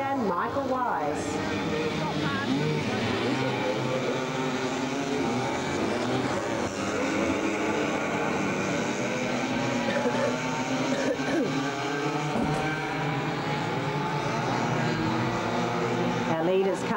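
Dirt karts at the 1996 SA Dirt Kart Titles race around the pit corner, several engines buzzing and droning together with rising and falling pitch, loud and continuous, with a commentator talking over them throughout.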